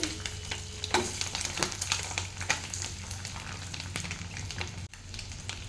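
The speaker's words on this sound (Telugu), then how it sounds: "ఇప్పుడు ఇందులో ఎగ్స్ వేసుకొని కొంచెం ఫ్రై చేసేసుకోవాలి ఈ మసాలా అంతా ఎగ్స్కి పట్టేస్తుంది" Eggs fry in masala in a pan with a dense, continuous sizzle and crackle, close and steady, broken by the soft scrape of stirring.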